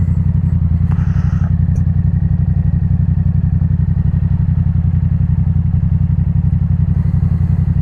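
A 2024 Yamaha MT-07 motorcycle riding through Rotterdam, its engine a loud, steady, close drone with a pulsing low rumble throughout, and a few faint clicks over it.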